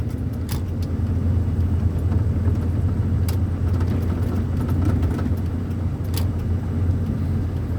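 Heavy truck descending a mountain road in low gear, a steady deep engine rumble and drone throughout with faint occasional clinks, no talking.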